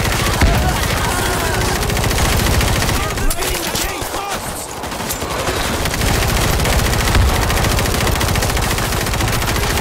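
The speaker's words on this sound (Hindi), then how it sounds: "क्या फायर कर रही है ये वाली गन" Continuous rapid fire from an advanced micro SMG in the zombie shooter World War Z, set in Tokyo: a loud, unbroken rattle of shots that dips briefly in the middle, with chaotic game noise around it.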